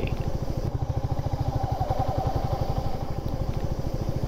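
A motorcycle engine runs steadily up close with a fast, even low-pitched thrum and no letup, as a bike arrives at the parking area of an orchid garden and research centre in Arunachal Pradesh.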